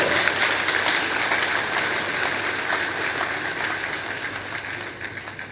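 Sustained applause from a large audience at an induction ceremony for new members, a dense, steady wash of clapping that fills the whole stretch and eases slightly toward the end.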